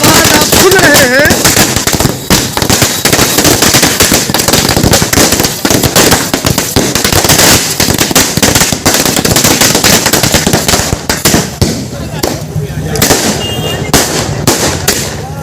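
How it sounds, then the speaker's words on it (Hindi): Firecrackers burst in dense, continuous volleys of rapid crackling pops near a home, celebrating someone's return after about 70–75 days in jail, with voices mixed in underneath. "ये जो आपने अभी पटाखे की आवाज़ सुनी है या कंटिन्यू सुन रहे हैं"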